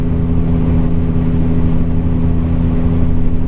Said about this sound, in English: Now that I'm driving this van through the mountains and I'm seeing it hold overdrive even at 65 miles per hour going up grades